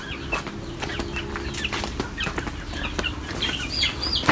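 Chickens clucking and chirping around a rural yard as they are fed, with irregular short calls near and far over a steady outdoor background, and no talk.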